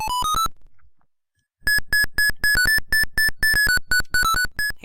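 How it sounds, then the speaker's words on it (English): Rapid series of bright electronic beeps in quick repeating bursts, loud and close, after a brief pause, like a chiming notification tone going off during a retro Mario Bros. game on an MZ-2200 computer. "Can't keep hearing more notifications."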